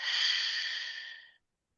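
A single long, soft inhale through the nose during a guided breathing exercise, steady and close for over a second before cutting to silence.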